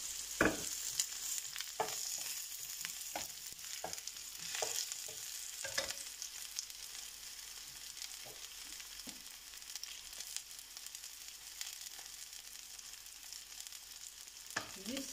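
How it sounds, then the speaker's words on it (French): Chopped onions sizzle in hot olive oil in a frying pan, with a constant bright hiss and a few sharp clicks and scrapes of stirring near the start, close and alone, no voices. "Je mets l'huile d'olive dans la poêle et dès qu'elle sera chaude, je rajouterai les oignons. Elle est chaude, je mets les oignons."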